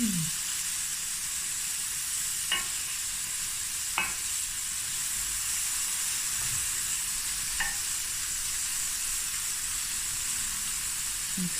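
Corn, peppers and garlic fry in a pan for a chicken and mushroom stir-fry, giving a steady, close hiss of sizzling with a few brief stirring scrapes spaced through it and no talking.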